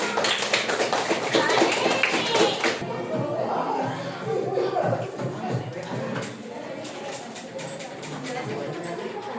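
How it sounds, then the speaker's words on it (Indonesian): Junior high school students in a math classroom clap for their classmates, a burst of rapid hand claps for about three seconds, then fading into shuffling, chatter and light laughter. "Kasih tepuk tangan buat temannya."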